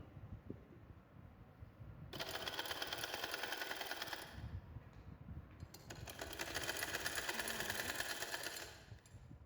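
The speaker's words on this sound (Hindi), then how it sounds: "अब हम फिटिंग की सिलाइयाँ लगा रहे हैं" A sewing machine stitches the fitting seams of a small girl's frock in two long, fast runs separated by a short pause, with a dense rapid chatter close by and no talk.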